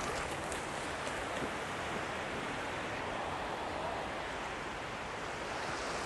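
Ocean surf breaks in a steady, loud wash across the whole stretch at a beach where a dog is being taught to surf, with wind buffeting the microphone and no talk.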